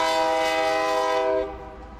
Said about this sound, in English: the trains on the Union Pacific tracks can run and honk their horns until 6 a.m.